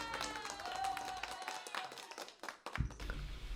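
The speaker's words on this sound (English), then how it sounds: "Give yourselves a big round of applause." Audience clapping and applause at a magic show during a virtual happy hour, a dense patter of hands that dips briefly and then picks up again.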